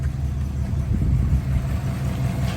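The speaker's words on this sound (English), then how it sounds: "let's take a listen to the engine" A 1955 Buick Special Riviera engine idles steadily, a low even rumble with a slight uneven throb, close and fairly loud, with no voices.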